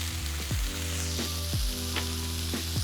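Garlic and tomatoes fry in olive oil with a steady close sizzle for pasta primavera, broken by a few soft clatters of a pan or utensil.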